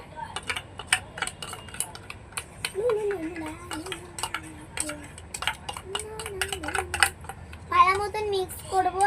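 A spoon stirs a mix of crushed biscuit and sugar cream in a bowl, producing light, irregular scraping and clinking taps, with a person speaking throughout.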